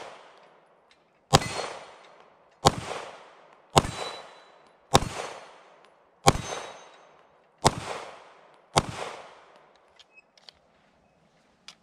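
Seven loud, sharp gunshots from a Walther PDP full-size 9mm pistol with a 4-inch barrel, fired at an even pace about a second and a quarter apart, each with a short ringing decay, followed by a few faint metallic clicks.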